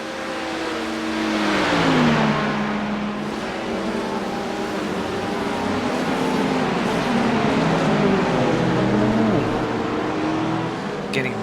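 Porsche and Corvette race cars in a GTP/GT3 sim racing game roar continuously nearby, their engines revving and shifting with rising and falling pitch as the cars battle closely.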